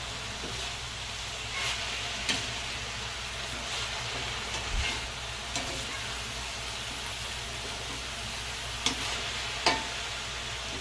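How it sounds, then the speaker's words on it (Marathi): Methi bhaji greens cook in a pan over a fast flame, giving a continuous hiss of frying broken by a few sharp scrapes and clicks as they are stirred. No one speaks. "गॅस आपल्याला फ्लेम फास्ट करून घ्यायची आणि आता आपण भाजी चांगली ढवळून घेऊया"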